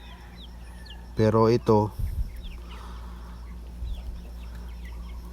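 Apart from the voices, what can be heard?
chickens clucking on a farm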